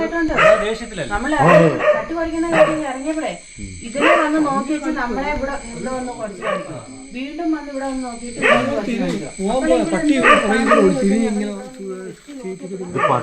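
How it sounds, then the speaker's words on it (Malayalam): Dogs bark and yelp loudly and repeatedly nearby, in overlapping bursts with brief pauses between them. "പട്ടി കുരയ്ക്കുന്ന"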